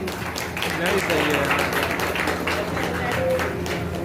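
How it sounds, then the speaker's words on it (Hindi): An audience at a ceremony claps to welcome a guest, a lively scatter of steady applause mixed with talk and crowd murmur throughout. "के स्वागत के लिए एक बार तालियां बजा दीजिए"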